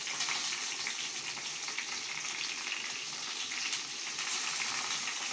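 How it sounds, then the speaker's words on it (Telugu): Chopped onions and tomato fry in a pan with a steady, dense sizzle that holds at an even level throughout, with faint stirring underneath and no voices. "మనం వేసుకున్న ఉల్లిగడ్డ తరుగు ఎర్రగయ్యే వరకు బాగా మగ్గరించుకోవాలి"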